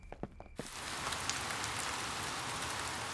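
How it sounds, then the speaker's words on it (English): Cartoon rain falling steadily on surfaces, a constant close hiss with scattered droplet patter, after a few brief faint knocks at the start. "It has been raining all night"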